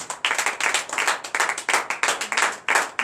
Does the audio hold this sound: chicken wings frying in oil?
no